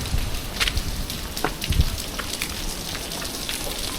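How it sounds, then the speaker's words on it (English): Rain falls steadily at Fort William Castle in Ghana, a dense broadband hiss with scattered drop impacts and a few louder splashes, continuous throughout with no talk. "Hey, it's raining, guys, and despite the rain, we're still gonna film this."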